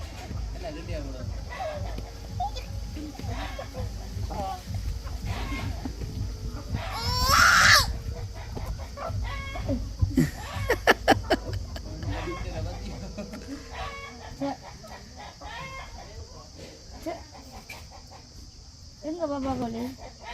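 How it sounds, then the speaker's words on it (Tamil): Chickens cluck and squawk as they are chased and caught around a house in Jaffna, with a sharp flurry of loud squawking midway, under frequent talking voices. "பிடிங்க பிடிங்க தம்பி பாப்பா கோழியை பிடிங்க"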